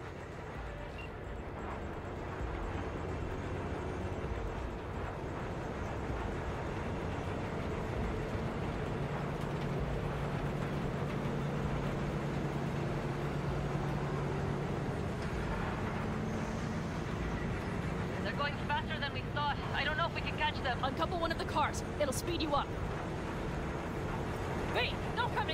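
A train in Cyberpunk 2077 pulls away and gathers speed, a steady low rumble and clatter growing under voices talking over it, with faint metallic squeals and bursts of sharp game noise later on.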